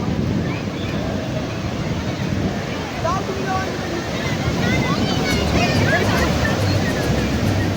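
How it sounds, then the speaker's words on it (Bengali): Sea waves surging onto the beach at Puri, a steady loud roar of surf with wind buffeting the microphone throughout, and people talking nearby. "চলে এসছি এখন সমুদ্র ধারে প্রচুর ঢেউ প্রচুর ঢেউ আছে"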